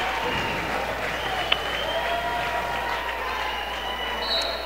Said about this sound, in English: That just made the Independence crowd come to their feet.